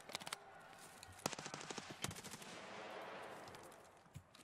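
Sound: gunfire from the video game Escape From Tarkov

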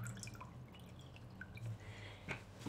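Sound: water dripping from a squeezed-out paint sponge

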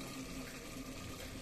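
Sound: water being poured into chicken curry pot

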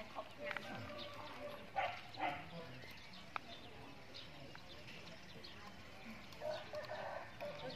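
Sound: chickens clucking

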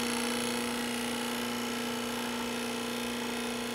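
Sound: restored 1950 Craftsman drill press running

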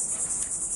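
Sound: cicadas buzzing

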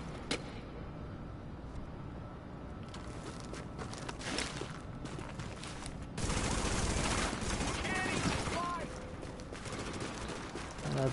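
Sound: gunfire in the video game Tom Clancy's The Division

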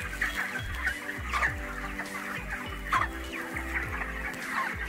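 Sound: broiler chickens clucking on a poultry farm

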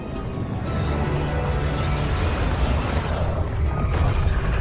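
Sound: rocket exploding in a Roblox video game

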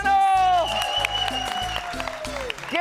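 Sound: studio audience applause

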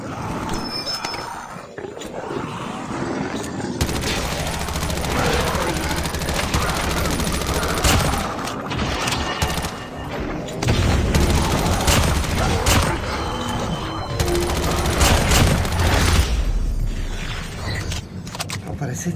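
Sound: gunfire in a video game

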